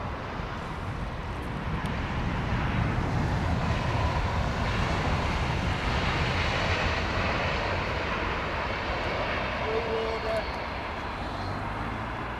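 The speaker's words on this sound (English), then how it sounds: "All these aircraft." Continuous broad roar of fixed-wing aircraft engines at London Heathrow Airport, steady and loud throughout with a slight swell in the middle, with no clear talk over it.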